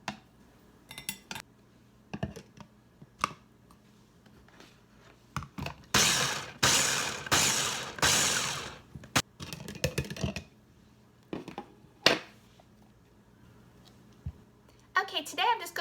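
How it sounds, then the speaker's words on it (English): Ninja food processor chopping drained pimentos, a loud whirring burst of several seconds surrounded by scattered clicks and clatter of the bowl and lid, close by. "I'd like to chop them up in my Ninja"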